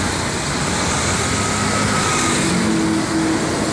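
A Rapi intercity bus from Medan (PT Raja Perdana Inti) passes on a roadside, a steady broadband roar of engine and tires amid traffic noise, loud and close throughout with no talking.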